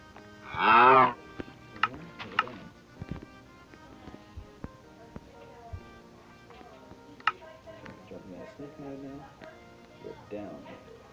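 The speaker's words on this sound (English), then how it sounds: "Why is there a cow in here?" A cow in Minecraft Pocket Edition lets out one loud moo near the start, followed by scattered game clicks and blips, with people talking quietly throughout.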